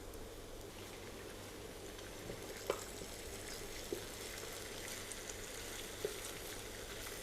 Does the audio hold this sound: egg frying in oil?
yes